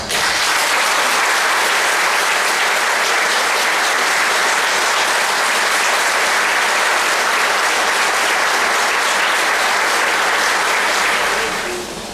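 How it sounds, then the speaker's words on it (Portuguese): Sustained audience applause at a mayoral inauguration ceremony in Palotina, a dense steady wash of many hands clapping at full loudness for about twelve seconds before easing off at the very end. "E peço a todos que mais uma vez lhes deem uma salva de palmas."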